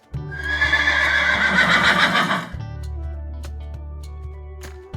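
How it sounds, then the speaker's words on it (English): A horse lets out a loud, long whinny, followed by clip-clopping hooves at a steady pace, all over a light musical backing. "Look at the fast horse."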